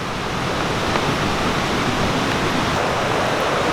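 Waterfalls at El Chiflon in Chiapas, Mexico, pouring in a steady, loud, broad rush of water with no break throughout.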